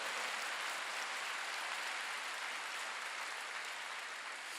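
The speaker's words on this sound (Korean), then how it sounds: "박수 좀 크게 쳐요." A church congregation at a Wednesday evening worship service claps together in a steady, sustained rush of applause that stays even and somewhat distant throughout, with no voices rising above it.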